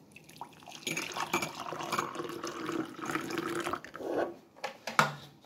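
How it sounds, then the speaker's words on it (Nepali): Hot water poured into a coffee cup holding a spoonful of instant coffee, a close liquid splashing and trickling stream running steadily for several seconds with clinks near the end, on a rainy day in Darjeeling. "अब यसमा तातो पानी"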